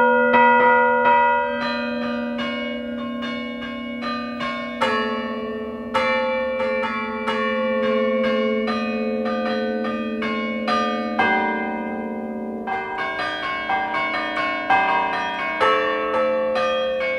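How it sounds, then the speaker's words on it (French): Carillon church bells ring out from a bell tower, a sustained melodic peal of many tuned bells with overlapping resonant tones, loud and continuous throughout with no talk. "faire des concerts, de musique avec des carillons, avec des cloches"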